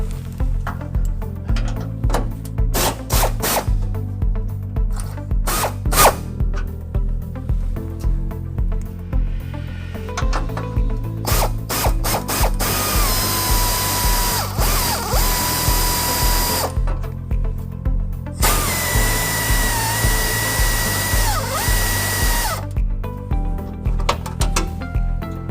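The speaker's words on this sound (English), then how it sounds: "we're going to take these bumper bolts up here and we're going to loosen them about halfway" A power tool loosens the bumper bolts on a 2008 Toyota Tacoma, with repeated loud whirring and ratcheting bursts, brief pauses between runs and longer high-pitched spins near the middle and end.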